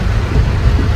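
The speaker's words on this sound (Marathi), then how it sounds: "पाऊस एवढा जबरदस्त आहे" Heavy monsoon rain in the Dhamni ghat near Khed, Maharashtra, heard as a steady, dense, loud rush with a deep rumbling undertone and no voices.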